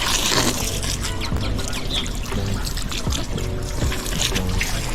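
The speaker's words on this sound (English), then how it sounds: "Rinse this off a little bit just to get rid of some of that blood" Water pours and trickles over a freshly caught red drum fish as it is rinsed of blood, a steady splashing flow running throughout with faint clatter and brief voice traces underneath.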